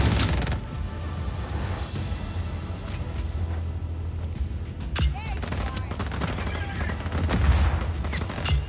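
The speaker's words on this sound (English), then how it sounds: "Nope, it's the fucking turret." Turret gunfire rattles in rapid, continuous bursts during a firefight in Just Cause 4, loud and sustained with sharp booming impacts and some brief talk.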